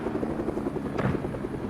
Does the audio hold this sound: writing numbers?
no